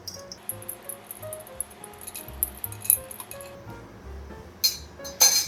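Coffee stirred over ice until fully chilled: ice cubes clink and rattle against glass in irregular bursts, close and fairly quiet, with sharper clusters of knocks near the end.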